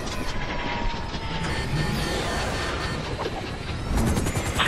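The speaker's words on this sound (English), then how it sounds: "FIB chopper! He's on to us!" FIB helicopter from GTA 5 flying overhead, a steady whirring rotor and engine drone that holds loud and even throughout, swelling slightly near the end, with no speech over it.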